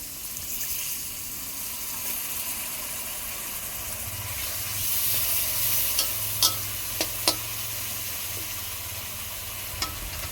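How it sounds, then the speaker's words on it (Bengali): Spice paste cooking down in a pan with a little water, giving a steady sizzle with scraping stirs and a few sharp clinks of the spoon against the pan; no one speaks. "মশলাগুলো দিয়ে অল্প জল দিয়ে ভালোভাবে কষিয়ে নেব।"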